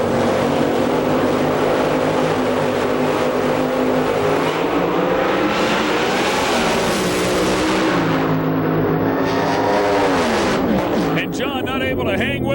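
Alcohol funny cars drag racing at the 2005 IHRA Rocky Mountain Nationals, a loud continuous engine roar with rising revs, the engine sound shifting near the end as the cars pass, under a race commentator's voice.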